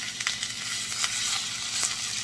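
Whole chicken legs frying in a hot skillet, a steady, close, dense sizzle with faint pops and no talking.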